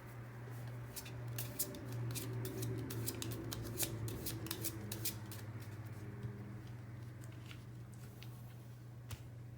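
Tarot advice cards being shuffled and drawn by hand, a steady run of soft, papery flicks and snaps close up over a constant low hum, with no talking.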